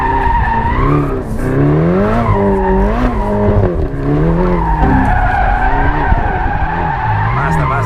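A Ferrari sliding sideways with tires squealing and spinning, long wavering screeches rising and falling over engine noise, loud and close, with occasional voices.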